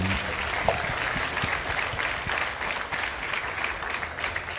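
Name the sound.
audience applause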